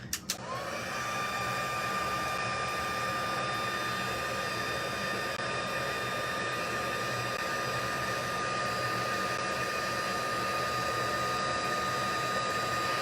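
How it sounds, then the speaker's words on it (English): Heat tool melting embossing powder on a watercolor pencil project, blowing a steady, loud, continuous airy whoosh with a faint whine, unbroken for the full length after a brief click at the start. "Now I'm going to bring in my heat tool and heat this all up."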